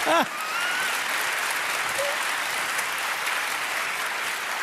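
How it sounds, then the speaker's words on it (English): Sustained audience applause at a live young inventors awards ceremony in Reykjavik, a steady dense wash of clapping throughout with a brief voice at the very start. "that's an applause"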